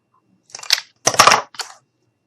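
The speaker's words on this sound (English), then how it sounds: "I'm going to take my skinny stick, and I'm going to go ahead and just cut it." A skinny wooden craft stick is cut for a mini fall wagon craft, giving three short crunching snaps in quick succession, close and fairly loud, with no talking.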